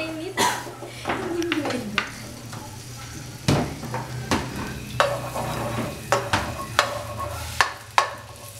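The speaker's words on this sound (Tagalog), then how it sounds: "Gigisa na natin ang ating bawang. Siyempre, hanggang maging golden brown." Garlic sautéing in a pan until golden brown sizzles steadily while a metal spatula clanks and scrapes against the pan in repeated sharp knocks; a voice talks over it at times.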